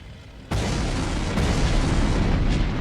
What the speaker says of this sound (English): The explosions and gunfire seem to be adding fuel to the flame